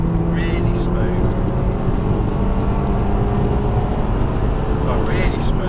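A remapped VW Golf GTI Mk5 engine revving, a loud, steady smooth drone with a rising tone carried up high, while people talk over it.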